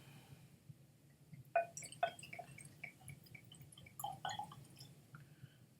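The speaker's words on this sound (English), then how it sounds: "Let's pour a dram." Glenmorangie 15 Cadboll Estate Highland single malt Scotch whisky poured from the bottle into a glass, heard as soft, close glugs and drips in two short bursts over a low background hum.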